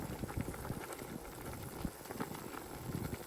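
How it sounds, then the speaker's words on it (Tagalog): A pot of Filipino pork adobo bubbles quietly and steadily at a low simmer, with soft irregular pops and no voices. "Ayan, kumukulo na siya."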